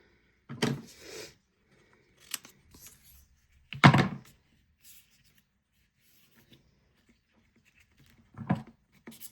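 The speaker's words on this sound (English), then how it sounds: "I'm going to need to also trim this here just a little bit." Scissors trim paper for a junk journal folio, giving a few short, sharp snips and rustles spaced apart by quiet gaps, close up and fairly soft.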